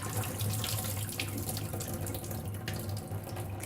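Tap water runs steadily into a kitchen sink while 2 cups of rice soak in a pot, a continuous close splashing hiss with no pauses and no talk.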